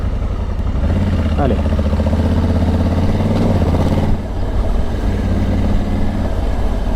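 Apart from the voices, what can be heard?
Honda Africa Twin Adventure Sports motorcycle pulling away, DCT gearbox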